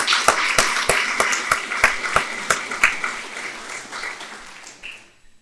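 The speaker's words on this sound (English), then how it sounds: "Let's give ourselves a round of applause for all of those accolades." Applause from an audience at a town State of the Town event, a steady dense clapping with a few sharper claps near the start, fading out over the last second.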